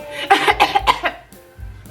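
A short burst of several rapid coughs, close and fairly loud, followed by a quieter breathy sound.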